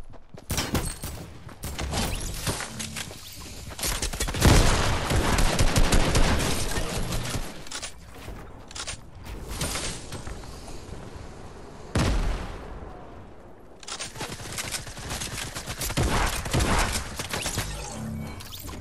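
Dense gunfire in the Fortnite video game, loud sustained bursts and rapid automatic volleys running through most of the stretch with brief lulls, no talk.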